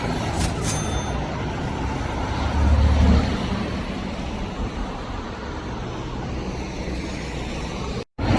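An Audi RS6 drives past on a Zurich street among other traffic, a broad steady engine and road roar that swells near the middle of the pass and then fades, loud and close, with no talking.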